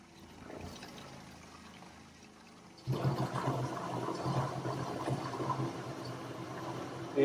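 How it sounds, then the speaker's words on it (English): A primed pump pushes water through PEX pipe in a cargo trailer camper, with a soft steady trickle into a jug that suddenly swells into a louder, rushing, gurgling flow about halfway through and continues strongly. "And we got water going through it."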